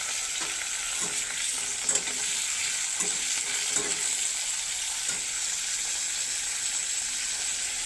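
Potatoes frying in hot oil left from frying tangra fish, seasoned with salt and turmeric, a constant close sizzle with scattered soft clicks and scrapes of stirring.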